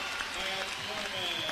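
A high school basketball crowd at a 2002 sectional semifinal roars and cheers after a blocked shot, a broad wash of noise under a commentator's voice.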